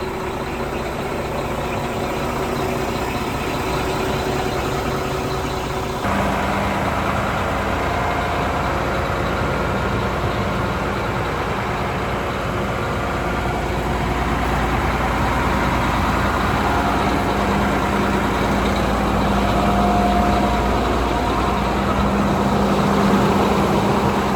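An old Mack truck engine runs steadily at idle with a continuous low, heavy rumble throughout, close and unchanging, with faint sounds of people in the background.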